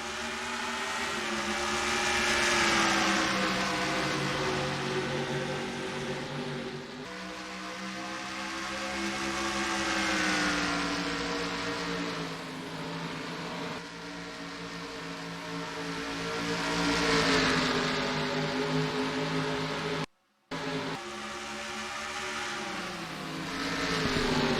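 Engines of NASCAR stock cars at the start of a race at Oswego in a racing video game, a loud sustained roar of many motors with rising and falling pitch as the pack accelerates and shifts.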